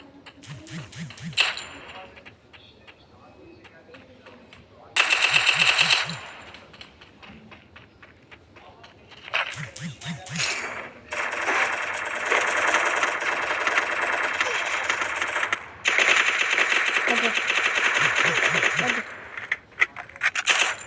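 Gunfire in the Free Fire video game comes in short loud bursts and single shots, with stretches of engine-like hum between them and a voice talking at times.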